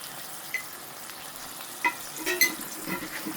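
Onion frying in a pan with salt and chili powder for jackfruit seeds with dried shutki fish, a steady soft sizzle with a few stirring scrapes, close and without voices.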